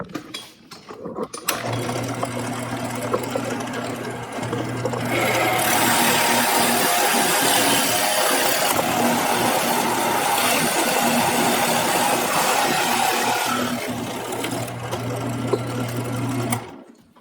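A drill boring through cedar wood into a backer board, a steady mechanical whir with a louder grinding middle section as the bit cuts, close and continuous.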